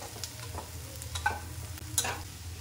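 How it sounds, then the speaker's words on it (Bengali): Chicken pieces poured onto deep-red fried onions in a pan, a soft continuous sizzle with a few light scrapes and clinks, no voices. "এবার মাংসটাকে ঢেলে দেবো।"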